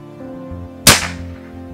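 A single sharp crack from an Ataman M2R .35 caliber PCP air rifle, loud and close, with a quick decaying tail over a low steady background hum.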